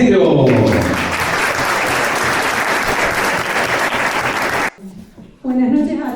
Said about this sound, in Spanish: Vamos a comenzar escuchando a la candidata con un fuerte aplauso